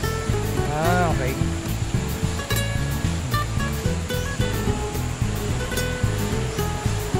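A waterfall at Villa Escudero pours in a constant, loud rushing wash, with music and voices carrying over the steady roar.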